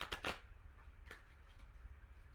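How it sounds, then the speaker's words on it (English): A deck of tarot cards being shuffled close by, with a few quick riffling bursts at the start and another brief flutter a moment later, fairly soft against a quiet room. "Let's make sure we get some good shuffles."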